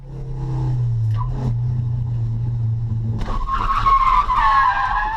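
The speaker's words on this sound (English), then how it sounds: "we're attempting to drift for the first time" A car drifting at a track day squeals its tires in a loud, sustained skid under engine drone, then revs hard as a second, higher tire screech takes over near the end.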